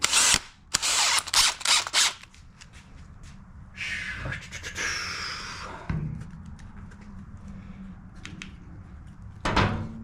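A drill spins a Q-tip for polishing in several short, loud whirring bursts at the start, followed by quieter clicks, rattles and handling noises.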